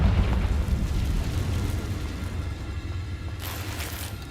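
A Confringo fire spell blasts in Hogwarts Legacy, giving a sustained roaring, rumbling burst that swells loud at the start and keeps up as a dense wash, with a brighter crackle near the end.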